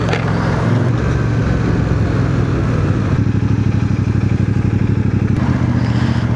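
A CFMOTO CL-C motorcycle cruises along an expressway, its engine droning loud and steady up close with rushing wind and a brief change in pitch partway through.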